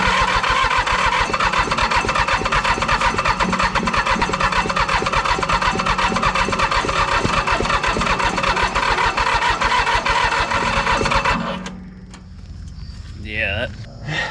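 An old commercial diesel mower, left rotting in a field for 20 years, cranks loudly and continuously with a rhythmic starter churn for about eleven seconds, then stops, leaving quiet background and faint voices.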